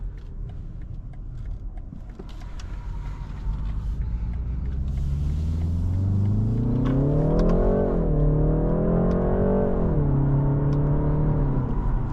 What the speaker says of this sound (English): Decent acceleration.